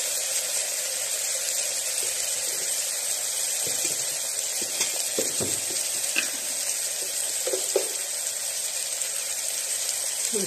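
Onion fries in a pan with salt added, giving a loud, steady sizzle throughout with occasional stirring clinks and scrapes close by.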